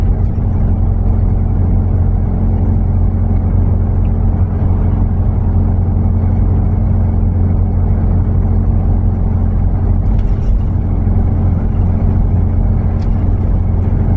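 A vehicle engine labors up a hill in a steady, loud, low rumbling drone that holds for the whole stretch, with no clear gear change.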